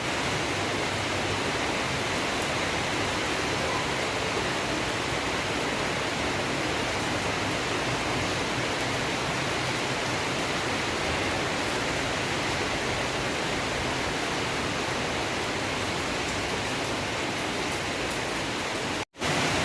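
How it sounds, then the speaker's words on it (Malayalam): Heavy rain pours down in a dense, steady roar without a break, close and uniform throughout, cutting off abruptly at the very end. "നല്ല മഴ പെയ്തൂടെ."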